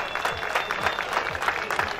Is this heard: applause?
yes